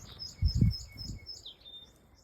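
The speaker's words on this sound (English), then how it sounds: "Oh, the birds are singing again." Several birds chirping and tweeting in a spring garden in early April, a string of high, quick calls repeating across the moment with some soft low rustle beneath, fairly faint and no voices.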